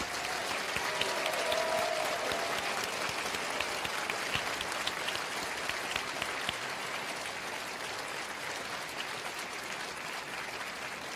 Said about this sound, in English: Let's have a round of applause for the class of 2026.